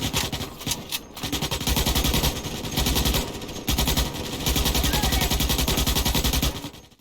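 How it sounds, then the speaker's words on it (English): Rapid automatic gunfire from guns in a bug-fighting video game, loud sustained bursts broken by a few short pauses, bright and thin rather than punchy, with no talk. "The tone of the guns is too high, they don't feel punchy, they don't feel strong"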